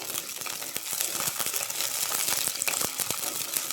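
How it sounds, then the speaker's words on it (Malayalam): Small shallots sizzle and crackle steadily in hot oil while being stirred for a meat roast, a close, continuous frying hiss broken by quick scraping and popping ticks throughout. "ചെറിയ ഉള്ളി ഇട്ട് ഒന്ന് ഇളക്കുക."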